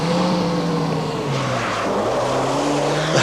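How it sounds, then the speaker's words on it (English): A Volvo rally car at the 1985 Hellendoorn Rally in Holland races hard through a corner, its engine droning loud and close with shifting pitch as it accelerates, alone without talk. "Well, the Volvo is not the most ideal of rally cars to have, but here we have one."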